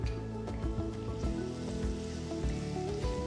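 Crushed garlic and lightly browned shallots sauté in a pan for a crab roast, giving a steady, close sizzle that continues evenly under faint tonal background sound.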